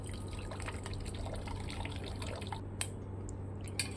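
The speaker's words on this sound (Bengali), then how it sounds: "এরপর ঠান্ডা জল দিয়ে একটুখানি চাউমিনটাকে" Cold water trickles and splashes over boiled chow mein noodles as they are rinsed, a steady soft running-water wash under a low hum, with a couple of brief louder splashes near the end.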